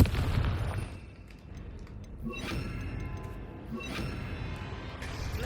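A Confringo fire-blast spell cast against a troll in Hogwarts Legacy bursts into a heavy boom, with later impact bursts around the middle and end over a rumbling fight bed.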